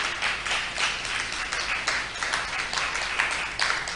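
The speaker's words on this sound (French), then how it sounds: "Nous acclamons pour la parole de Dieu." A church congregation at a Christian convention claps together in steady, sustained applause, a dense even patter filling the hall without pause.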